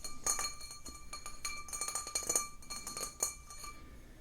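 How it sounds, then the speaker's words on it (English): An ordinary drinking glass being handled, giving a run of light, bright clinks and taps at an uneven pace, close and fairly quiet, with no voice. "You need a glass. This is just regular glass."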